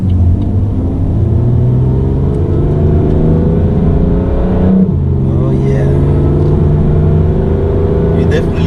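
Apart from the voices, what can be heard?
BMW M3 exhaust revving in automatic mode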